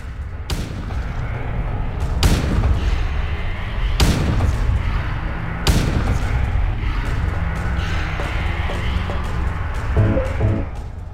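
Gunfire in the video game Silent Hill 2 (Enhanced Edition): a few loud, sharp booming shots spaced a second or two apart, each decaying over a rumbling game backdrop.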